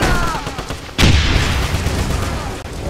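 An explosion blows open a locked door in the video game Wolfenstein (2009), a single sudden loud boom that rolls into a long rumbling tail. Game ambience and faint voices sit underneath.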